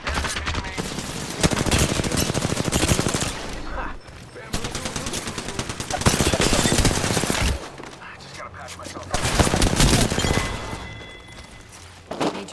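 Rapid automatic gunfire in an Apex Legends match, dense bursts of loud close shots in several long strings separated by brief pauses, mixed with game effects and occasional voice lines.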